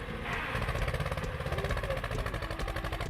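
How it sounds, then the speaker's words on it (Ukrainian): A heavy T-25 tractor engine rumbles loudly and continuously, close by, with a rapid rhythmic thumping. "Гуркіт цього двигуна можна було впізнати за кілометр."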